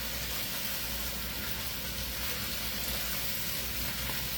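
Breakfast burrito filling fries and sizzles in a pan as it is stirred, a steady, close, even hiss with no one speaking.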